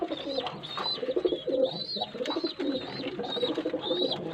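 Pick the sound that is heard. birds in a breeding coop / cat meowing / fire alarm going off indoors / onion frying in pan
birds in a breeding coop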